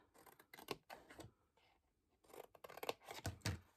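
Scissors snip through paper on either side of two small squares to form tabs for a 3D paper phone craft, a few crisp close cuts and rustles in quick bursts with a short quiet gap between them.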